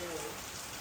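Steady rain falls in an outdoor street setting during a Ganesh festival visit in Dhoolpet, a dense, even patter filling the short clip with no other clear sounds.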